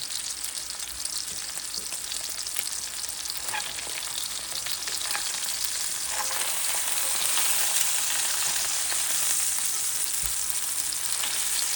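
Trout fries in a hot pan with a steady, bright crackling sizzle that swells slightly as a fillet is turned over, close and alone without talk.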